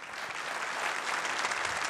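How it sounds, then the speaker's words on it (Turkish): Steady applause from a concert audience, applauding TRT youth choir performers and their conductor, dense and continuous clapping with no voices over it. "Bir alkış rica edelim mi o zaman?"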